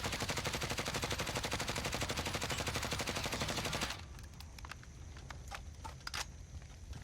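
Grau assault rifle with a 60-round magazine fires in Warzone: a loud, unbroken full-auto burst for about four seconds. It is followed by quieter scattered clicks and faint shots.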